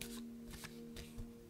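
Tarot cards shuffled by hand, a quiet, close riffle of soft papery flutters in a few quick bursts, alone without talk.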